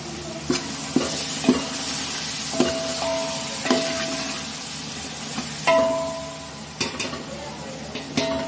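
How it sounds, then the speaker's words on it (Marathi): Tomatoes sizzle as they are stirred and sautéed in a pan after the spices, with a steady fry under repeated clinks and scrapes of a utensil against the metal. "टोमॅटो पण आपण थोडं परतून घेणार आहोत."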